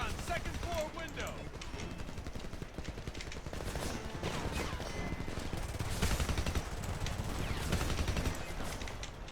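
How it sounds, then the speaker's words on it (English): Gunfire from Homefront, a machine gun firing from a second-floor window, with rapid overlapping shots and distant bursts under a noisy combat mix where voices speak. "Machine gun, second floor window."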